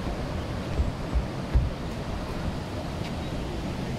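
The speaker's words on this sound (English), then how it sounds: "You can hear the water behind us." Water rushing outside Wookey Hole caves, a steady low outdoor wash blended with wind buffeting the microphone, fairly faint and continuous with a few soft thumps.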